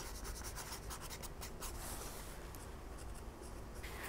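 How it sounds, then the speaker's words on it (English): A marker writing variety names on a plastic container for winter-sown poppies and artichokes, giving soft, close squeaky strokes in quick bursts, fairly quiet, with no voice. "I'm also going to write the name of each variety on the container."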